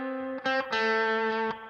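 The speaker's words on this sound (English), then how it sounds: "I'm using the bridge pickup on a telly. It's got reverb and compression on it." A clean electric guitar on a Telecaster bridge pickup with reverb and compression plays a few sustained, ringing notes with bright harmonics, alone and close.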